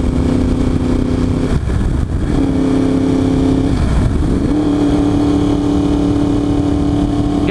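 A 2023 Yamaha R1 sport motorcycle idles loud and close, its engine speed rising and falling in a few brief revs before settling into a steady higher drone, alone with no voices.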